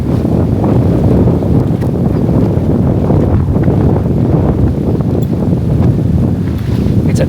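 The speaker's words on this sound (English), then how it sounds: "It's a nice breezy day out here." A strong breeze buffets the microphone outdoors on a windy desert day. It makes a loud, steady rumbling roar that runs the whole time with no pauses.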